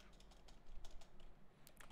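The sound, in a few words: typing on a computer keyboard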